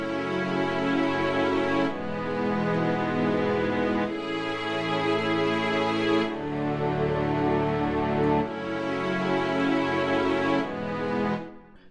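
Layered stock string ensemble in FL Studio, a new Flex string layer blended over other high-pass filtered string parts, playing sustained chords that change roughly every two seconds, loud and continuous with no talking.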